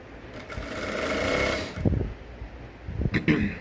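Sewing machine stitching a sleeve on an Ankara top, a steady whirring run that swells then stops, followed by short bursts of stitching and clunks close by.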